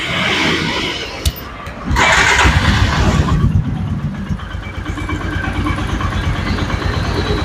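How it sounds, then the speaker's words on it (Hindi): A Royal Enfield Himalayan motorcycle engine cranks and fires, then settles into a loud, steady idle with an even mechanical chatter close by. "मैं एक बारी आपको स्टार्ट करके सुनाता हूँ कि गाड़ी की आवाज़ कैसी है।"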